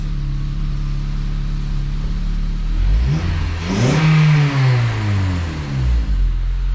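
A 9th-generation Honda Civic engine with a 3-inch downpipe idles low, then revs up sharply with a deep, loud exhaust roar that rises and falls over a few seconds.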